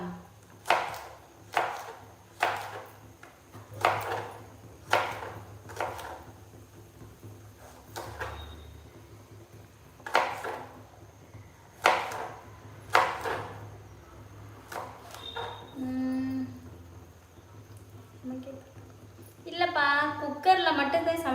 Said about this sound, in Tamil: நான் பீன்ஸ் நறுக்கிறேன்